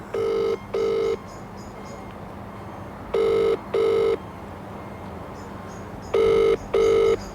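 A telephone ringback tone sounds in three paired bursts, evenly spaced with pauses between, clear and steady over a faint hiss.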